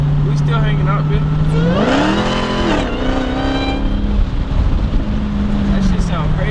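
A Dodge Hellcat engine revs up with a rising whine, holds at a high pitch, then eases and surges again, loud and close.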